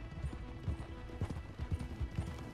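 Horses in the video game Red Dead Redemption 2: a steady clip-clop of hooves at a trotting pace over a dense background wash, moderately quiet.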